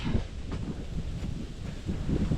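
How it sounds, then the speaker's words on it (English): Gusty wind buffeting the microphone, a low rumbling roar that swells and eases over a couple of seconds. "sorry, it's windy"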